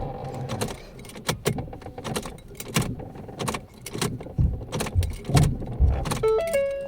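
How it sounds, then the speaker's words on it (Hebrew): A key is repeatedly turned on and off in the ignition of a 2013-2016 Ford Fiesta, producing a rapid series of close metallic clicks and key jingles, ending with a short electronic chime. "אני אכניס אותו פה למתג, ואני מדליק, מכבה, מדליק, מכבה"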